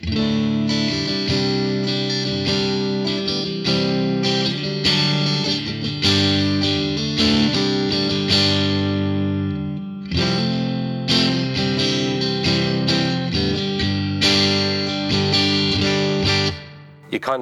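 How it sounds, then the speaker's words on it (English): Electric guitar played through a Fender Tone Master Pro modeller on a basic clean amp tone with a touch of reverb, sustained chords and notes ringing continuously and loudly, briefly cutting out near the end. "all you want is a basic amp tone with a little bit of reverb"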